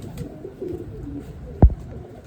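A racing pigeon coos softly and low, with a single brief thump partway through against a quiet background.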